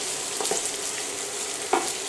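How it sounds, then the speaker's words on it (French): Potatoes, carrots, bacon lardons, onion and garlic frying in a pan, a steady close sizzle with a few soft scrapes of stirring and one sharper clink near the end. "Je vais rajouter mes lardons, mon oignon et mon ail. Je mélange bien."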